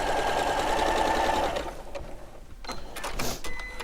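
A sewing machine runs a steady, fast stitching burst on a quilt's quarter-inch seam, then stops, followed by a few short clicks and rustles of fabric handling nearby.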